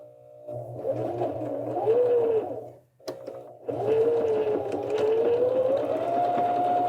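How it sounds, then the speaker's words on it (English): Janome 725S sewing machine stitching a dart, a steady close motor whir that rises and falls in speed, with a short stop around the middle before sewing resumes. "I'm going to sew all the way down to the point"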